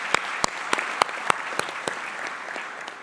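Sparse audience applause at a graduation ceremony, a few distinct loud claps standing out over a faint steady patter of distant clapping that thins toward the end.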